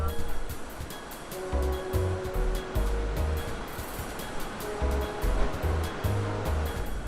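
Ocean surf at high tide on Uvita beach, Costa Rica, a continuous near roar of breaking waves with wind buffeting, and a voice speaking over it at times.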